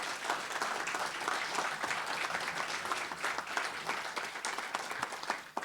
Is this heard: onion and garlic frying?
no